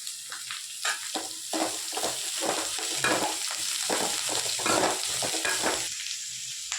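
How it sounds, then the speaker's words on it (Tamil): Onions sizzle and fry in a hot pan while a utensil stirs them with repeated scraping strokes, close and steady, no voices. "வெங்காயம் கொஞ்சம் நேரம் வதங்கட்டும்"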